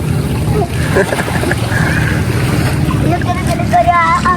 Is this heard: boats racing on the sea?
yes